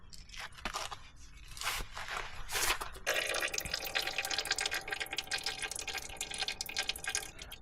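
Transfer case fluid drains steadily from the drain plug opening of a Porsche Cayenne, giving a continuous close trickle and patter of liquid that grows fuller after a few isolated drips at the start.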